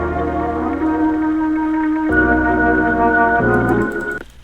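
R&B sample run through a vintage tape emulation plugin: warm, slightly muffled sustained chords change twice over a deep bass, then cut off abruptly near the end, with faint crackly high ticks.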